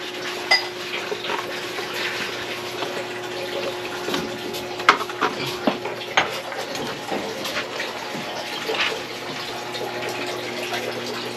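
Dishes, plates and utensils being washed at a sink: running water with scattered clinks and clatters of plates and cutlery, close by, with little talk.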